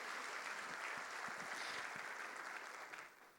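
Applause from a church congregation fills the space, dense continuous clapping that stays fairly even and fades slightly toward the end.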